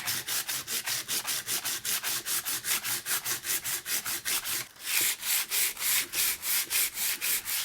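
A Power Gig guitar's plastic body is sanded by hand in steady, rapid back-and-forth strokes, each rasping pass evenly spaced and close, continuing alone without talk.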